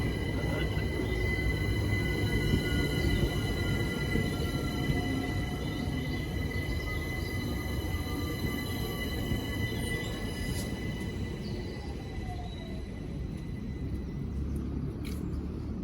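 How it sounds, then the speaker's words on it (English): A London Overground Windrush Line class 378 electric train, unit 378147, pulls into a station at Wandsworth Road or Clapham High Street with a steady loud rumble, a rising whine and faint wheel squeal. "arriving now is the 1221 London Overground Windrush Line service to Dalston Junction. This is worked by 378147."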